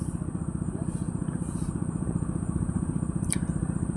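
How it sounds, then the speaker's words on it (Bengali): A deep-sea fishing boat fitted with a two-cylinder diesel engine runs fast, its loud, steady chugging drone continuous and close, with a voice speaking over it. "বোট প্রচুর গতিতে চলতেছে।"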